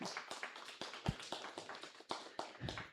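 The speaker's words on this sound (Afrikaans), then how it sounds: "kom ons gee vir hulle lekker hande klap" A congregation claps together in a room, a dense patter of hand claps lasting a few seconds at moderate volume with no voices over it.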